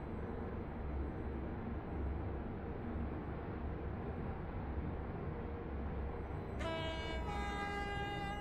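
Electric multiple-unit train, a Connect Class 357, in the Stepford County Railway game, with a steady loud rumble and running noise throughout, then a sustained harmonic horn-like tone sounding near the end.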